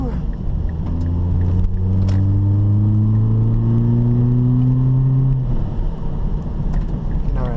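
A Mazda 3 engine revs up steadily during a downshift on a test drive, its rising drone close and loud over road rumble, then easing off.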